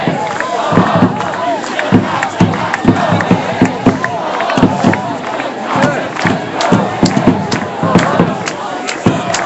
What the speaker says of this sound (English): when you have a crowd this large, it is hard to direct